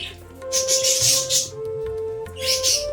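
Farm birds call in short, bright chirping bursts, near and fairly loud, with a steady tonal hum running underneath.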